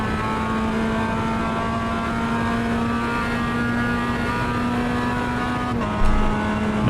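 A simulated Mazda MX-5 engine drones at a steady high pitch on the Bathurst circuit in iRacing, then dips as the car shifts near the end, loud and continuous throughout.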